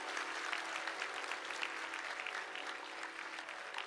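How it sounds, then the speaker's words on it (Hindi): Steady applause from a crowd at a religious discourse gathering, many hands clapping continuously at an even level throughout. "हमारी बात सही हो तो ताली फिर दोबारा बजाओ, जो बढ़िया से बजाओ।"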